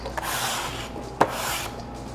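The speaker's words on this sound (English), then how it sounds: "Now we scrape our knife. The knife goes up, and the salad goes into my mixing bowl." A knife blade scrapes chopped salad off a cutting board into a mixing bowl, a close, dry rasping rub with one sharp scrape near the middle.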